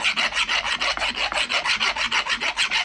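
A block brush scrapes across a cast swage block for blacksmithing in rapid, even back-and-forth rasping strokes, about fifteen in three seconds, close and loud with no talking.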